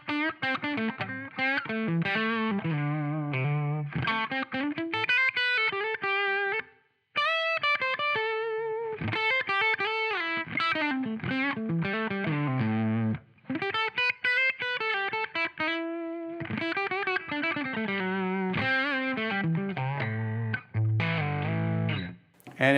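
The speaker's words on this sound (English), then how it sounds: "we can come in and add that touch of reverb." An electric guitar played through a Line 6 HX Stomp with distortion and reverb, chords and single notes ringing out loud and sustained, driven and slightly washed, with brief pauses between phrases.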